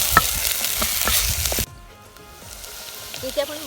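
Chopped onions with ginger garlic paste sizzle in a pan for Jawala curry, loud and dense for the first second and a half, then the frying drops sharply to a soft steady hiss with faint stirring.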